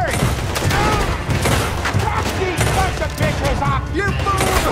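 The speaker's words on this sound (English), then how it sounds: "Oh, that's a gun." Dense, continuous gunfire in the video game Red Dead Redemption 2 during a saloon shootout, with loud overlapping shots and rapid volleys filling the whole stretch and brief game voices mixed in.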